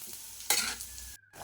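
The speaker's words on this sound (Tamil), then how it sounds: "கீரையெல்லாம் முழுகிற அளவுக்கு நம்ம வந்து கிளறி விட்டுறணும்." Small spinach greens are stirred in a hot frying pan for a spinach kadayal, giving a steady sizzle with scraping stirs and a brief louder burst midway. No one speaks.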